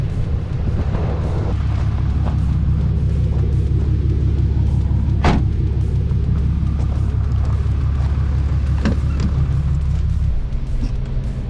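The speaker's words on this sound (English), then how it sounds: "Let's take it for a test drive." A 2019–2024 Cummins-powered truck fitted with a new BDS dual steering stabilizer rumbles on a test drive, its engine droning low and steady from inside the cab with a few brief knocks and clicks, then easing near the end.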